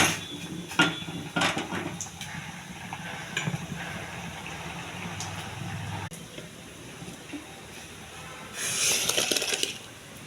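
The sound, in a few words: cooked raw mango being added to dal in a pot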